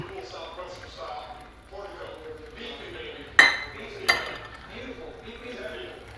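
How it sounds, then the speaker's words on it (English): A spoon stirs a caramel mixture in a pot for caramel popcorn, with soft scraping and two sharp metallic clinks against the pot partway through, heard under a person talking. "So we're going to stir this up."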